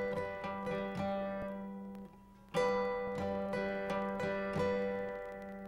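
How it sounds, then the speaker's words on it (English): An acoustic guitar plays with thumb-and-finger plucking on two strings and a light strum from the index fingertip. The notes ring clear and close in a steady two-beat pattern, with a short pause midway. "plucking 2 strings, again with the thumb and a middle finger, and then lightly strumming with the tip of your index finger"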